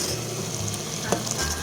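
Kheer simmering on a low flame in a pot with desi ghee or olive oil, giving a steady, soft bubbling sizzle with a faint low hum and one brief clink near the end.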